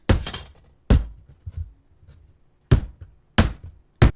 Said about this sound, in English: Could use like a rolling pin for that, but just bang it against the table.